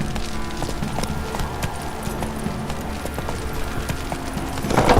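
Hooves of the horse Roach clip-clop steadily in The Witcher 3: Wild Hunt, a continuous walking rhythm of hollow knocks over a busy game soundscape, with a slight swell at the end.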